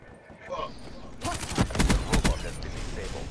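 Rockets fired at a robot in a video game, a rising whoosh followed by a cluster of loud rapid blasts and impacts, with a voice talking over it.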